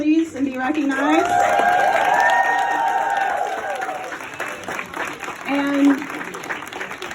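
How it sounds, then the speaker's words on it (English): Loud, sustained applause and cheering from a crowd at a campaign fundraiser, with a voice speaking over the clapping as it continues for several seconds before easing. "we need a big round of applause for our fabulous host committee"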